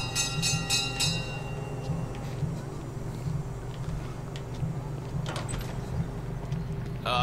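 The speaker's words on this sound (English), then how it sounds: "now ring the bell? Yep, call everyone to dinner." A dinner bell in the Hitman video game, set in a restaurant kitchen, rings a few quick metallic strikes at the start over a steady low game hum.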